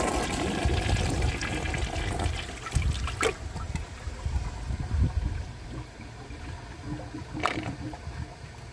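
A 1995 Mansfield Alto ADA toilet flushes with a dish towel in the bowl: a loud rushing whoosh of water that tapers into gurgling and trickling refill, heard close up without talking.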